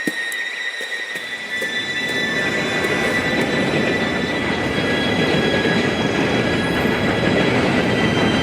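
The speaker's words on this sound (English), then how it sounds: "Train should be here any minute now." A train pulls in within Red Dead Redemption 2, its rumble swelling from near quiet into a loud, dense roar of rolling wagons with faint squeals of the wheels.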